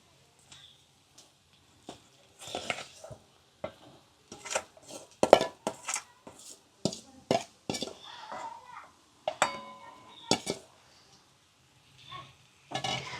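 Mashed potato goes into a pan for a stuffed capsicum filling and is mixed in. Scattered spoon clinks, taps and scrapes against the metal pan come in quiet, irregular bursts with pauses between them.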